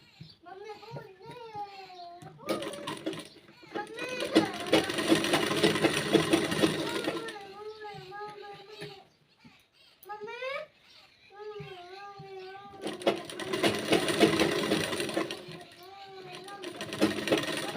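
Sewing machine stitching a kanchli blouse in two sustained whirring runs, with someone talking in between and over the stitching.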